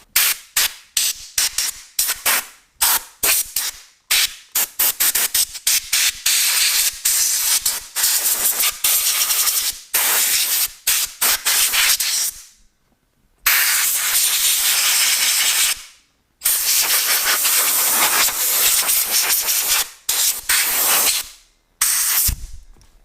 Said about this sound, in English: I'm going to blow all that sawdust out of the motor.